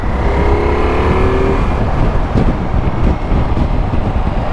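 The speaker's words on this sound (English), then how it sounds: "now that is applying the brakes and the engine braking together" A Ducati Multistrada V4 S motorcycle slows under engine braking while riding on the road, giving a loud, continuous engine and wind roar that stays near throughout.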